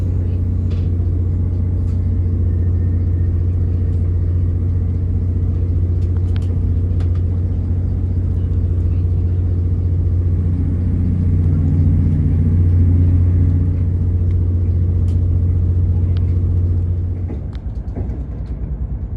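Inside a CrossCountry Class 221 Super-Voyager diesel train pulling away from Southampton Airport Parkway, a deep steady engine drone and rumble fill the cabin, with faint clicks and rattles over it and the note easing near the end.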